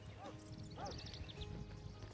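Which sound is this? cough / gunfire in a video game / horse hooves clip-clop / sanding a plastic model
horse hooves clip-clop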